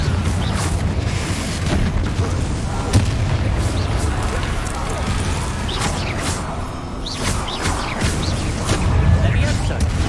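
Confringo spell blasts in Hogwarts Legacy, repeated booming explosions and crashes over continuous battle noise, loud and close, with a voice casting spells over them.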